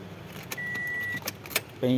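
Keys with a car remote fob for a 2009 Toyota Altis 1.6 E jangle in a few quick metallic bursts, followed by a steady electronic tone and a louder buzzing hum at the end.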